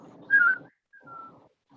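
A person whistles to call someone in during a tabletop role-playing session, two short close whistled notes with a pause between, alone without talk.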